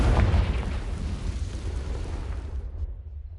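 A blasting-spell explosion in the Hogwarts Legacy video game: a loud, deep boom that hits at once and rumbles away over about three seconds, with no other sound.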